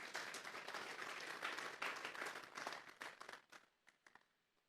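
A church congregation breaks into loud, dense applause that rolls steadily, then thins out into scattered individual claps as it fades to near silence.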